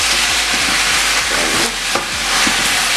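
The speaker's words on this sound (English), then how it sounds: "While you stir onions." Onions sizzle and fry steadily in a pot for oxtail stew, a continuous close hiss with occasional scraping stirs and soft clinks, no voices.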